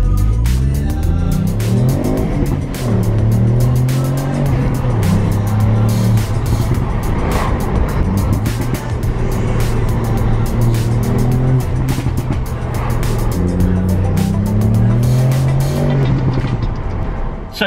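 A Ford Fiesta's engine revs hard and repeatedly, pitch climbing and dropping through gear changes, with tires squealing at moments, loud and close.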